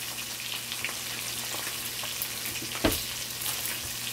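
Yellowtail snapper frying in a pan for Jamaican escovitch fish gives a steady, close sizzle of hot oil throughout, with small crackles and one sharper pop near the end.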